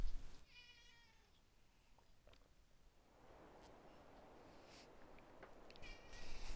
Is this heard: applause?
no